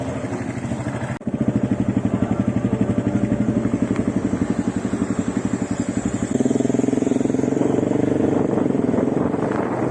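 A motorcycle riding through the streets of Johannesburg, its engine throbbing in a steady rapid pulse close by, rising slightly in loudness and pitch partway through, with road and wind noise throughout.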